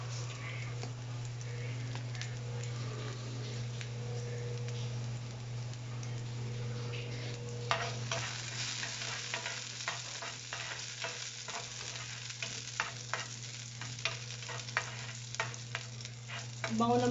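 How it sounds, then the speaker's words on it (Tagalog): Garlic sizzles and fries in a pan, a steady hiss with a low hum beneath, growing busier after a few seconds as stirring adds scattered ticks and crackles. "Brown lang natin yung bawang."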